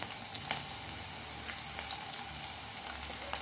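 Chillies and spring onion fry in a pan for restaurant-style chilli paneer. A soft, continuous sizzle carries small crackles and a few stirring scrapes throughout.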